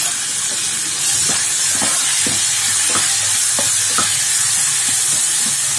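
Garlic paste and a ground coconut-tomato paste fry in a pan with a steady, loud sizzle and hiss, broken by regular scraping taps of a spoon stirring the mixture.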